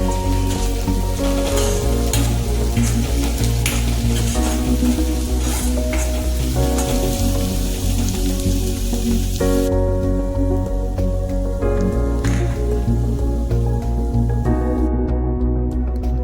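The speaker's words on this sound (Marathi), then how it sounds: "त्यानंतर आपल्याला लसणाची पेस्ट टाकायची, तिलाही अगदी तेलामध्ये चांगलं फ्राय करून घ्यायचं" Garlic paste fries in hot oil while kanda pohe is being made, a loud steady sizzle with stirring. A low tonal background hum also runs throughout, and no one speaks.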